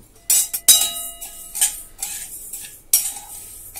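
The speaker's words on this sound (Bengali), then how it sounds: "মুগের ডাল নিয়েছি, গ্যাসটা অন করে দিলাম। ডালটাকে অল্প একটু ভেজে নেব।" Moong dal dry-roasts in a pan while a spatula scrapes and clinks against the metal in a handful of short, bright strokes separated by brief quiet gaps.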